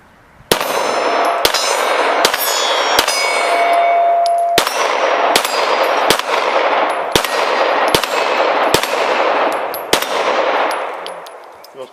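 Close-range pistol shots ring off steel targets, about a dozen sharp cracks each followed by a bright metallic clang, spaced roughly a second apart, loud and outdoors with no talk.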